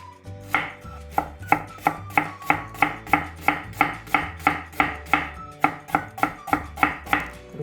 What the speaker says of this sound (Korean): 그럼 썰어 볼게요.